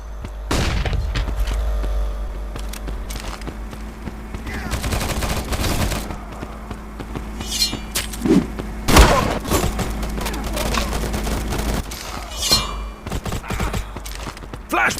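A flashbang grenade and gunfire in the Modern Ops game at a construction site: rapid bursts of shots and sharp booms, some dense and close, with scattered thuds and brief voice sounds between them.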